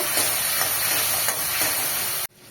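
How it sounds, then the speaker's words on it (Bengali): Spice paste with cumin powder and a splash of water frying in a pan, a loud, steady sizzle and hiss with occasional stirring scrapes, cutting off abruptly near the end. "মশলাটা একটু ভাজা ভাজা করে নেব"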